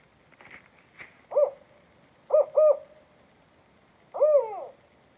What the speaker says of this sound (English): I thought I would play for you all some spotted owl calls